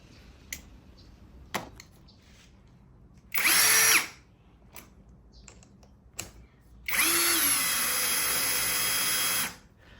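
A MASARU cordless drill fitted with a 90-degree right-angle head drives screws in two loud sustained bursts, one short and one about three seconds long, separated by quieter clicks and handling knocks.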